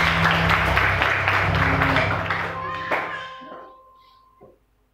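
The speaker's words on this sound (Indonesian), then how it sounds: "Berikan tepuk tangan buat Tuhan Yesus" Church congregation clapping at a GBI worship service, dense applause with some voices mixed in that tapers off over several seconds into near silence.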